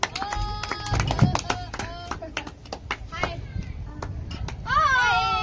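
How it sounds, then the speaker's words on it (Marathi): A group of children clap together in a scattered burst of hand claps, mixed with lively, overlapping children's voices and chatter up close, the claps thinning out as the talk and squeals carry on. "सगळ्यांनी टाळ्या वाजवायच्यात"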